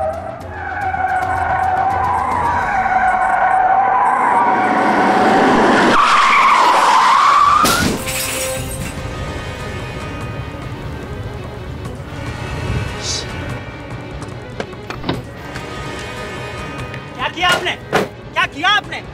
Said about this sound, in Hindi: आपको गाड़ी ठोकने का कोई हक नहीं